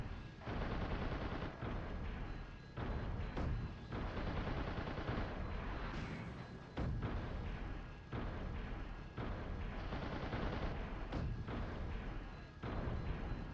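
Rapid gunfire from a semi-automatic weapon in the mech video game Steel Battalion: dense, loud, repeated shots packed closely together, running almost without a break for the whole stretch.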